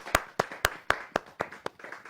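An audience at a Hindi kavi sammelan poetry gathering claps in unison, with about eight sharp, evenly spaced claps in quick rhythm, close and clear, and no talking over them.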